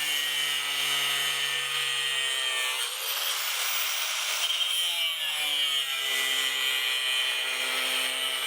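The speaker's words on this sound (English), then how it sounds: "today I'm going to use the angle grinder" An angle grinder cuts through fascia and soffit trim on a workshop build, giving a loud, continuous high-pitched whine close by whose pitch dips and recovers as the disc bites the material.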